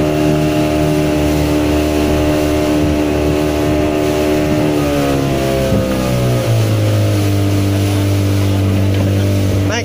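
Boat engine on a trip from Tanjung Benoa, Bali to Turtle Island, a loud continuous motor drone that shifts pitch lower near the end as the throttle changes, close and constant throughout.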